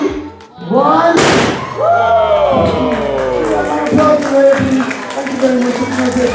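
An explosion demonstration at London's Science Museum sets off a sudden loud bang that cuts through an excited crowd. Cheering, clapping and voices continue loudly all around it.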